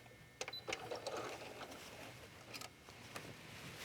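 A sewing machine backstitches on a fish-shaped beach bag, quiet and close, with a few sharp clicks and short bursts of motor hum.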